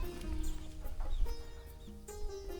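Chickens on a simple homestead on a Bangladeshi river char island cluck in short, repeated bursts against a steady outdoor background, with no talk.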